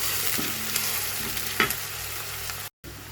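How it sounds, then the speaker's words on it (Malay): Spice paste and onions fry in a pan, giving a steady close sizzle broken by a few scraping stirs of the utensil, with a brief dropout near the end and no one speaking. "Masukkan rempah tumis, masukkan habis. Kita kacau sekejap sampai bawang tu naik bau."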